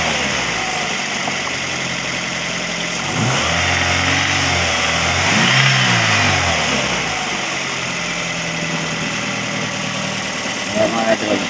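Toyota Vios engine running at idle, then revving up and settling back down, a steady close mechanical drone with a few rises in pitch.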